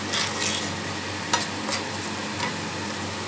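Sliced ginger being stirred into an amla pickle, a close, steady wet scraping and mixing with a few brief clicks, no voices.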